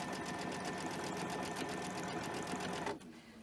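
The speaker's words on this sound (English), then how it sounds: "But I'm still sewing it the same way. I'm putting it on the edge here." A sewing machine runs steadily through slippery, pinned fabric at the edge of a shopping bag, a continuous close whirring stitch that stops abruptly near the end.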